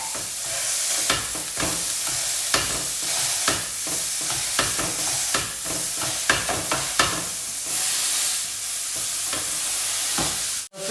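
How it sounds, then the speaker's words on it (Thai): Steady, loud sizzling of beef burger patties frying in a hot pan, with occasional scraping clicks of a utensil throughout and a sudden stop at the end. "กระทะมาแล้วนะคะ ใส่เนื้อไปเลย"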